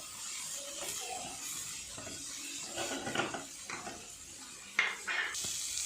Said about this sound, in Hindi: तो इसका कच्चापन दूर करने के लिए हमें 2 मिनट सौटे करना है बटर के अंदर।